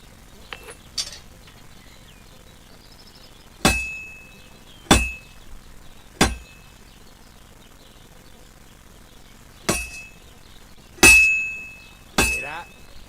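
A blacksmith's hammer striking hot metal on an anvil in Kingdom Come Deliverance 2, seven sharp ringing clanks at uneven intervals, each with a bright metallic ring that decays quickly, with no talking.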